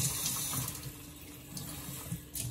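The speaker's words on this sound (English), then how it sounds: "And I add like a can of" Steady water pouring from a can and splashing into a container, continuous and fairly close, with no talking.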